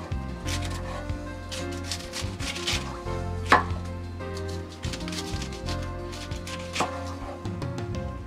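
Leftover cabbage being chopped with a knife on a cutting board, with rapid, close, fairly steady cutting strokes and occasional louder knocks, heard alone without talking.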